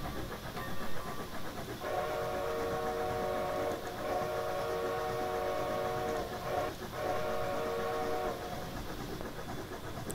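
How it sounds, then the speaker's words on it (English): Steam whistle of a NYC 4-6-4 Hudson locomotive in Train Simulator Classic, sounded in several short blasts over steady rumbling engine noise, loud and close. "the short whistle kind of cuts off a little bit, but it's not too heartbreaking"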